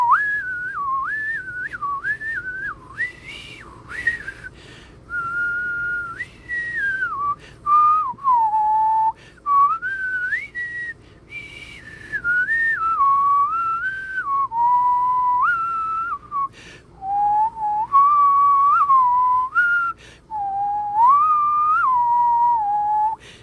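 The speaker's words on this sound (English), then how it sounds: "especially with the whistle sound in Fury Green's main theme" A clear melodic whistle carries the main theme of Phazon-corrupted Fury Green from the Metroid Prime game. It sings in gliding, sustained phrases with short pauses between them over a faint, quiet backing.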